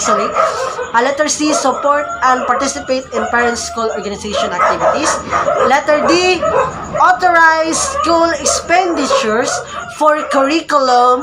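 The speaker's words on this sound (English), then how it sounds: "So sorry for the noise because there are a lot of dogs here." Many dogs bark nearby in scattered, overlapping yaps and woofs, heard beneath a person's continuous reading voice throughout.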